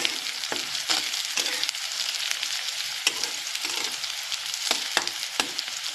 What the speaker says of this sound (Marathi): आता लसूण आणि मिरच्याच्यात मी टाकून घेतली, थोडीशी परतून घ्यायची.